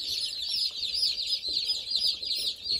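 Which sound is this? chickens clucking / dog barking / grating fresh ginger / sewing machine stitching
chickens clucking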